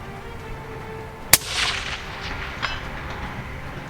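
A rifle fires a solid copper monolithic bullet at a steel target: one sharp, loud crack followed by a hissing decay, then a fainter metallic ping of the strike about a second later, over steady outdoor background.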